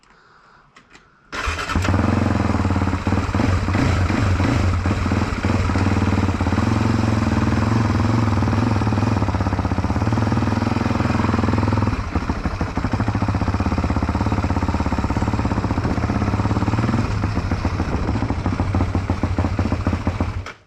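A Can-Am 450 ATV engine starts abruptly and runs steadily at close range, holding a loud, rough, uneven mechanical drone as the quad moves forward, with a brief dip and rise partway through.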